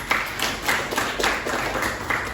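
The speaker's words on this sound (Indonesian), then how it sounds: "Boleh tepuk tangan untuk Mbak Anissa." Applause for a student in an interactive economics classroom lesson, a short burst of clapping from a small group, moderately loud and steady for a couple of seconds with no talking over it.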